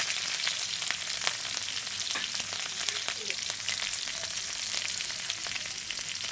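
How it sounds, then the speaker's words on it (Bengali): Chopped garlic, ginger and green chili fry in hot oil, giving a dense, bright sizzle close by with occasional stirring scrapes, no voices. "রসুন কুচি দিয়ে দিলাম, অল্প একটু আদা কুচি দিয়ে দিলাম, আর দিলাম অল্প কটা লঙ্কা কুচি দিয়ে একটু ভেজে নিয়ে"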